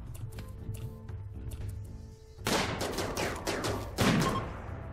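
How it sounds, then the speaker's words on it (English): Colonists trade gunfire in RimWorld, with small scattered shots at first and then a louder cluster of rapid shots in the second half over a low background hum. "Rabbit and Vapa and Nettie are shooting through here"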